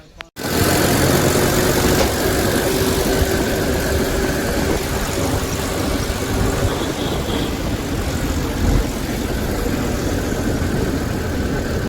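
A steady engine rumble runs throughout, loud and continuous, like a tractor running close by, with no voices.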